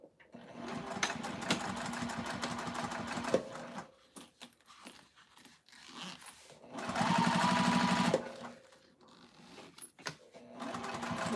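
A sewing machine top stitching a pocket runs in a rapid mechanical chatter of close needle strokes, stopping for pauses with small handling clicks, then starting again in a louder, steadier run.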